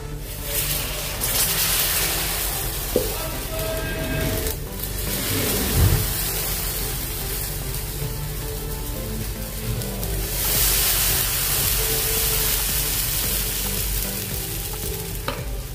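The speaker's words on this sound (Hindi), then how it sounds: "और अभी इसमें अपना बैटर डालेंगे उत्तपम को।" Semolina uttapam batter poured onto a hot griddle sizzles steadily for a long stretch, a loud broad hiss with faint scraping and small clinks, no voices.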